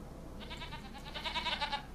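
A goat in the Farming Simulator 25 farm game gives a single quavering bleat lasting about a second and a half, clear but modest in level, with no talk over it.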